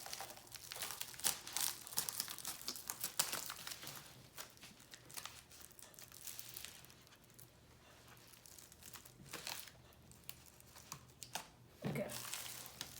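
Close, irregular plastic crinkling and tearing as 2020 AirPods packaging is unwrapped and cut open, with scattered sharp crackles and rustles and brief louder bursts near the end, no voice heard.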